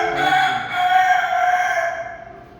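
A domestic desi rooster, raised for about seven or eight months, gives one long, loud crow lasting about two seconds that fades at the end, close by and alone with no talking.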